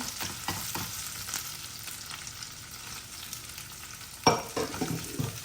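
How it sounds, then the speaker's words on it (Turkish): Peppers fry in a pan for a Turkish breakfast dish, giving a steady sizzle with stirring scrapes. Near the end a louder burst of crackling spatter rises as curd cheese is poured over them. Nobody speaks. "Onu kızaran biberlerimin üzerine döküyorum."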